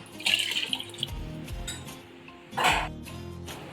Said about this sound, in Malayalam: 6 കപ്പ് വെള്ളമാണ് ഇതിലേക്ക് ചേർത്ത് കൊടുക്കുന്നത്